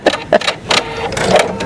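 A domestic sewing machine runs flat out stitching a zippered bag, giving short loud mechanical bursts followed by a steadier fast whirring run, close by with no talk over it.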